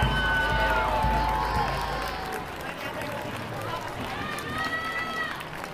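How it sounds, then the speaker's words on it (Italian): An audience at a carnival costume presentation welcomes Lucia Iannuzzi onto the stage with applause, cheers and shouts, a loud crowd roar that gradually eases off. "e voglio che la accogliate con un grande applauso"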